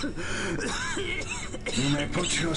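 A brief cough and throat clearing sound near the mic amid general voices and murmuring.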